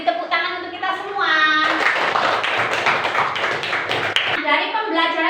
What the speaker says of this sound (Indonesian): sekarang beri tepuk tangan untuk kita semua.